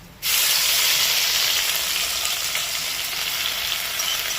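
Whole black peppercorns and leftover chicken marinade tipped into hot oil, bursting into a sudden loud sizzle just after the start, then a steady close hiss that holds to the end.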